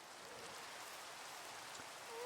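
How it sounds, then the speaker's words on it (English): Steady rain in the Minecraft video game hisses as an even, soft wash of falling drops, continuous and unbroken, with no voices over it. "It's raining"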